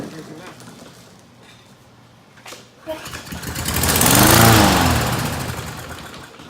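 A lawn mower engine cranks with a couple of short pulls, then sputters and catches briefly, swelling into a loud rough roar before fading as it nearly starts.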